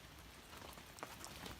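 Steady rain falls on a forest shelter with a tarp roof, making a faint, even patter with scattered drops and no voices.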